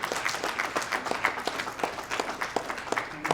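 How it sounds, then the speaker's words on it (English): Audience applause at an awards ceremony, a steady wash of many hands clapping with sharp individual claps standing out, moderately loud and continuous throughout. "So that deserves a round of applause."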